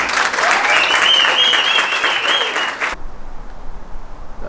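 Loud audience applause and cheering welcoming comedian Hugo Soares onto a stand-up comedy stage, a dense burst that cuts off abruptly partway through, leaving a quieter room.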